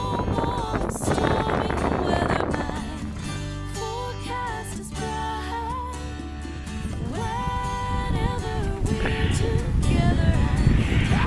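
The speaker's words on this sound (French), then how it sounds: "on sent bien le vent, là" Strong gusting mountain wind in the Vallon de Châtelleret buffets the microphone with a roaring, rumbling rush that swells and eases, loudest toward the end, with faint tones in the background.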